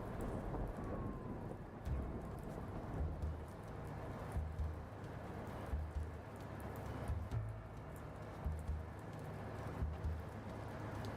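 A thunderstorm in the Blacksad: Under the Skin video game, with steady heavy rain and repeated low thunder rumbles at regular intervals, loud and continuous with no talking.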